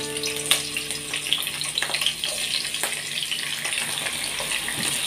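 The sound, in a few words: sautéing garlic and onion in a pan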